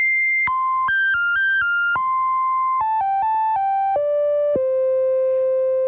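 Glide on a vintage Gnat Special synthesizer, a bright monophonic melody of short stepped notes, each sliding slightly into the next, ending on two longer lower held tones.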